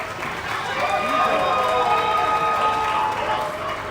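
Audience applause at an awards ceremony honoring African business leaders, a steady wash of clapping and crowd noise with tonal music or ringing sounds layered over it.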